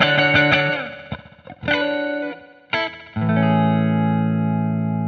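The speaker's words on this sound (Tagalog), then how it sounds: "if you set the delay time na sobrang ikli at maraming repeats at medyo mahina, it can sound like a reverb" An electric guitar runs through a delay pedal set to a very short delay time with many quiet repeats, so that it sounds like reverb: several loud strummed chords ring out and blur into a smooth, lingering wash, with no talk.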